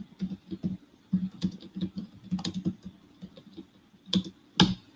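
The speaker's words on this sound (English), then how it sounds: "I'm going to type something over the chat." Someone types on a computer keyboard, a run of uneven clacking keystrokes in short bursts with pauses, close and fairly crisp, ending in a couple of sharper key hits.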